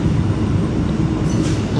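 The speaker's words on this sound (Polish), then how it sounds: "ten to pociąg służbowy, ale ładnie wjeżdżał, więc postanowiłem go nagrać" A Polish service train pulls into a Warsaw station, a loud steady rumble of rolling stock filling the clip with a faint hiss rising near the end, no talking.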